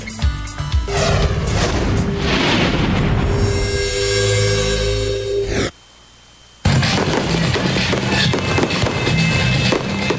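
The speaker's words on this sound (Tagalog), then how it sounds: "Kamangha-mangha naman ang mga ibinidang fireworks display sa Philippine National Fireworks Festival sa Marikina" Loud, continuous fireworks explosions crackle and boom over a dense noisy background at a fireworks festival in Marikina, Philippines, briefly cutting to near silence before the bursts resume.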